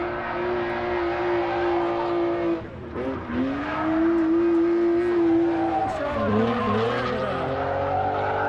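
Lexus LS 400 with a V8 drifting at a drift competition, engine roaring steadily with squealing tires throughout, a brief dip around the midpoint before revving back up, with a commentator's voice faintly underneath.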